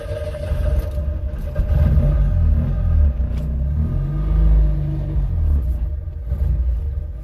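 A car engine that had stalled runs with a heavy, steady low rumble throughout, loud and close, with slight swells in intensity and no talking.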